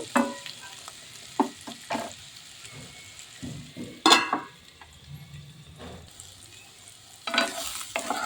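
Pumpkin is stir-fried in a pan, a soft ongoing sizzle broken by scraping stirs and a few sharp clinks of a utensil against the pan, close by and with no voices.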